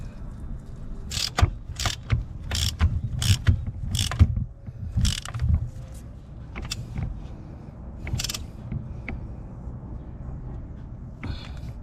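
A wrench ratchets a plug into the threads of a turbo engine's cylinder head, giving a close series of sharp clicking bursts, rapid at first and then sparser and more spaced out, with no talking.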